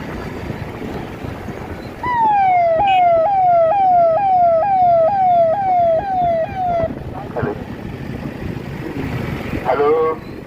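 A department vehicle's siren wails loudly during a marathon, sweeping in repeated falling yelps for several seconds before cutting off. Traffic rumble and crowd voices sit underneath, and a brief second siren burst sounds near the end.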